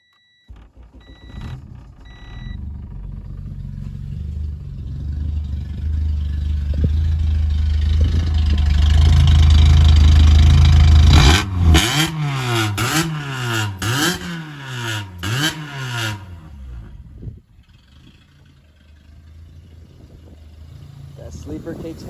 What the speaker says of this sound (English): Let's see how this JFab's exhaust sounds.